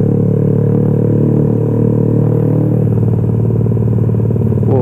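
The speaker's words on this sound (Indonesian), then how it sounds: "Mohon maaf, emang berisik ini motor emang." A loud Yamaha MX King motorcycle engine runs with a rough, rattling aftermarket exhaust, steady and close, shifting to a choppier sputtering rhythm partway through.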